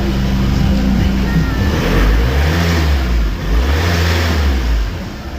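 A VW T5 van engine with worn piston rings and oil burning revs loudly and close, rising and falling in pitch through several throttle blips.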